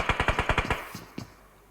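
Gunfire in the PUBG video game: a rapid automatic burst of about seven shots followed by a couple of separate single cracks, crisp and close, with no talk.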